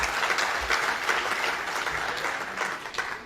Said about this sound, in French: J'aimerais également vous demander d'applaudir tous les observateurs des partis politiques